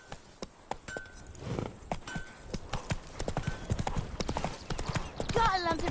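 Horse hooves galloping in the video game Witcher 3, a rapid rhythmic clip-clop with a brief whinny near the end, over background game sound.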